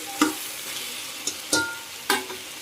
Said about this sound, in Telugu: సో ఒకసారి ఇలా చక్కగా కలిపేసుకోండి